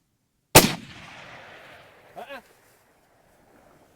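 A single sharp rifle shot at a mountain reedbuck in the Winterberg mountains, a loud crack followed by a long rolling echo, then a short voice and quiet.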